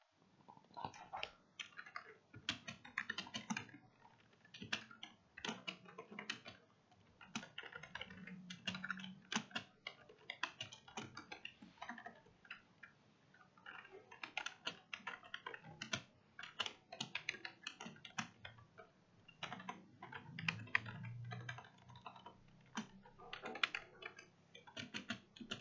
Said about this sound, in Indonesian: Cara yang kedua adalah dengan menekan Alt NP pada keyboard.